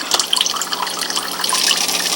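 A thin stream of water runs from a tap into a cup. It is a steady, splashy trickle, close and moderately loud, with no voices.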